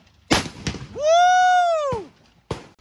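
Sharp, loud reports from .50 caliber rifle fire at an outdoor shooting range: two close blasts, then a long rising-and-falling vocal whoop, then one more crack.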